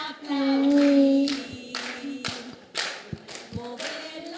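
Worshippers in a church clap their hands in a few uneven rounds under sung praise, the claps sharp and fairly close alongside the singing voice.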